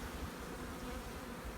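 Honeybees buzz steadily inside a nuc box in early spring, a soft, dense, continuous hum held at a low, even level throughout with no speech.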